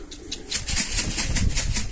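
Racing pigeon landing near a coop, a burst of rapid wing flaps close by, fluttering in quick repeated beats with a faint coo underneath.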